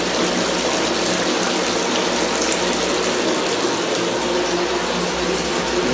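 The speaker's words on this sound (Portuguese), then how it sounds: "Ó, o banheiro já tá enchendo." Water rushes steadily from a tap into a bathtub being filled for a baby's bath, a constant loud hiss with no pauses and no speech over it.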